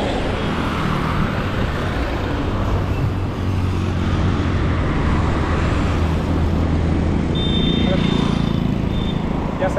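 Road traffic on a street being crossed on foot, a steady wash of passing cars and engine rumble with a brief horn-like tone, while people talk over it.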